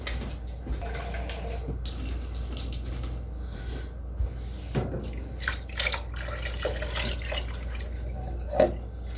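Water pours into a crock pot for birria, a steady close splashing stream with scattered drips, running continuously with no talk.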